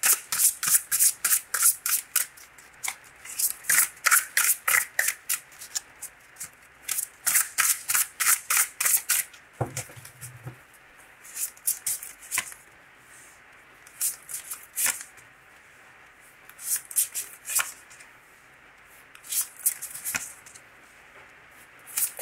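Tarot cards are shuffled for a reading in quick crisp riffling bursts, repeated many times with short pauses between, close and clear, with no talking.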